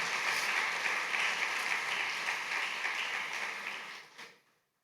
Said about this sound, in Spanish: ¿Qué te parece si le da un aplauso de alabanza al Señor?